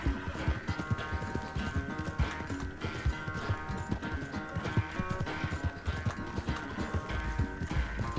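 Horse hooves gallop in a steady, rapid clip-clop in Red Dead Redemption 2, layered over a dense, continuous game music score with no speech.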